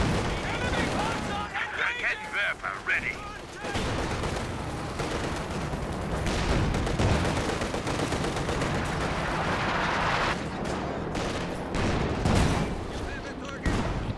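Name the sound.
ZiS anti-tank gun and gunfire in video game Company of Heroes 2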